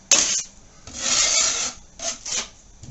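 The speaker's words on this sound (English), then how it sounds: "I'm just going to create a bed of compound" A compound knife spreads a bed of drywall joint compound over a patch in repeated raspy, scraping strokes, fairly close and steady with brief pauses between passes.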